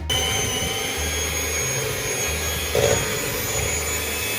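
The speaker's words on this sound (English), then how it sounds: "And now we're going to whisk it again." An electric whisk runs continuously through a cream cheese mixture of Philadelphia, cream and sugar, a steady high motor whine with slight wobbles in pitch as it beats.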